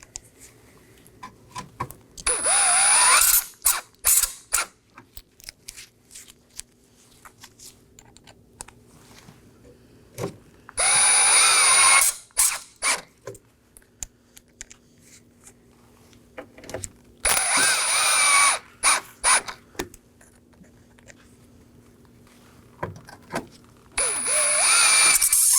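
A power tool drives six T15 Torx screws into the grille of a 2018-2024 Chevrolet Equinox, with several short, loud whirring bursts separated by quiet gaps and clicking handling noises.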